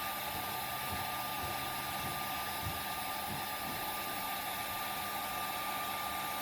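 A heat gun blowing hot air onto thick PVC pipe to soften the end, a steady loud whooshing roar with a constant motor hum throughout, close and unbroken, with no talking.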